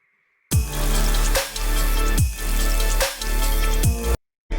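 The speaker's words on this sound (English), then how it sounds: "the snares are layered with water" Snare hits in a post-EDM electronic track, each layered with a splashy water sample: four evenly spaced, loud hits, each with a whooshing wash on top, over a sustained bass and synth bed.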